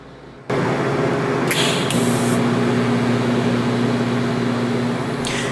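A welding arc, struck left-handed with manual pulsing, gives a close, loud, continuous crackling hiss with a steady underlying hum that runs for several seconds after a quiet start.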